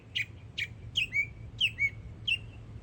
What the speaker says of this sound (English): a bird singing over there